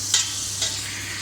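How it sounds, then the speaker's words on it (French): Okra sauce being stirred as it cooks in a pot, a steady simmering sizzle with two brief scraping strokes of the spoon close by. "je le bouge un peu pour faciliter cette cuisson"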